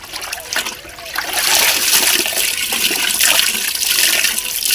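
Water rushes and splashes through a strainer as washed food drains in a home kitchen, a steady loud pour that swells after the first second and keeps trickling without pause.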